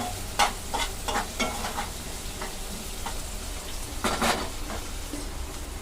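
Mixed vegetables stir-frying in a pan for egg and sausage fried rice, with a steady sizzle broken by repeated scraping and stirring strokes, close and moderately loud, with no talking.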